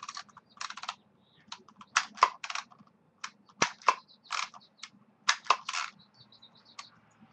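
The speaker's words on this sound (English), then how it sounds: "I'm going to start typing it" Someone types on a computer keyboard in irregular bursts of crisp key clicks, close and fairly quiet, with no talking.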